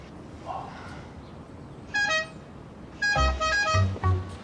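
Car horns honk repeatedly in short bursts, several vehicles tooting together over background street noise.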